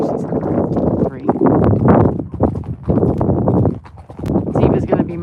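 A short horse being ridden along a trail clip-clops at a steady walking pace, heard close, while someone talks over the hoofbeats almost continuously.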